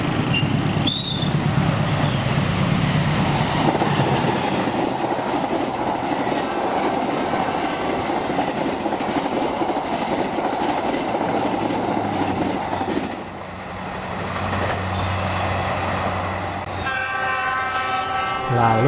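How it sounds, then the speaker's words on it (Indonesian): An express passenger train in Indonesia races past at high speed with a loud continuous roar and rhythmic wheel clatter, a horn blast near the start and another horn sounding as it recedes. "kereta ini masih yakin untuk dapat melaju dengan kecepatan tinggi"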